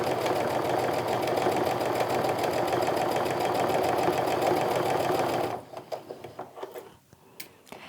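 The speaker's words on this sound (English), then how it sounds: "So I'm going to go ahead and start sewing." A sewing machine stitches a quarter-inch seam through fabric, running at a steady loud whir for about five seconds, then stops, leaving scattered soft clicks and handling noises.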